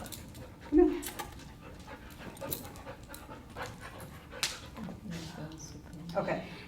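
A dog pants and gives soft whimpers during a training session, the sounds close but faint and broken, with people talking over them.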